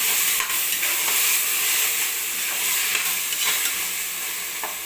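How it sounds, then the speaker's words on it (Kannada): Ground masala paste being stirred in a frying pan, a steady close sizzle with scraping spoon strokes throughout, no voices. "ಚೆನ್ನಾಗಿ ಮಿಕ್ಸ್ ಮಾಡೋಣ"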